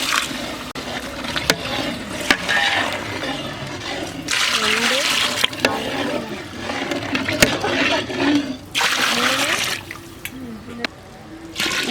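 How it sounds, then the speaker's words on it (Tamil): Water pours steadily into a large pot holding two measures of rice for an outdoor chicken dum biryani, a continuous splashing fill with a few louder surges, while someone talks over it. "அதில் தண்ணி சேர்க்கலாம்."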